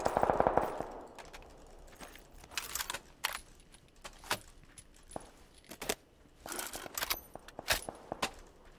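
An MG3 machine gun fires in the battle-royale game PUBG in several short, sharp bursts spread irregularly through the stretch, with fainter clattering and footstep sounds between them.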